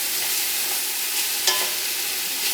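Garlic sautés in a pan for a spaghetti meat sauce, giving a steady, even sizzle and crackle of hot oil, close and continuous, with one brief clink of a utensil partway through.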